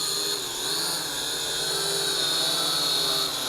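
Motors and propellers of an ATTOP W8 camera drone spin up for takeoff, a loud steady high whine with layered tones that rise slightly in pitch, close by and continuous with no voices.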